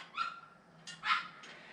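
A small dog whimpers and yips in short high-pitched bursts, three brief cries over a faint low background hum, with no talking.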